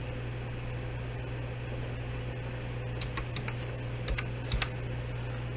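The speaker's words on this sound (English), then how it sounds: "You do that by typing in the" Keys clatter on a computer keyboard during network setup of an Epson WorkForce Pro WF-5690 printer: a sparse run of close, light clicks over a faint steady hum.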